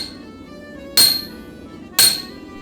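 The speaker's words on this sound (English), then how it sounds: "I mark with my center punch where the blade section begins on each side of the bar." Two sharp metallic hammer strikes on a center punch marking a steel bar for a folded axe, about a second apart, each a bright ringing clink that decays quickly, close and loud with quiet between.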